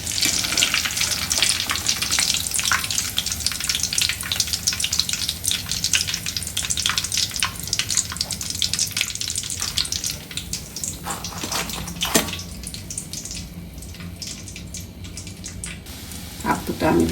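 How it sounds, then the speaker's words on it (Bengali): Vegetable rolls sizzle steadily in hot oil in a small wok, a dense, continuous bubbling hiss throughout with occasional louder crackles and pops, close and fairly loud with no talking. "দুটো আমি দিলাম কড়াতে, দুইটা দুইটা করে ভাজতেছি।"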